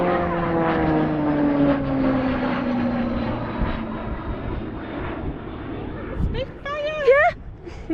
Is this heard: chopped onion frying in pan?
no